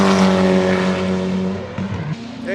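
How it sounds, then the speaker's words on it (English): Race cars roaring past on the Road America track during a practice day, a loud sustained engine howl that shifts pitch as the cars pass by close, with no talk over it. "the cars are going by and I don't want to interrupt"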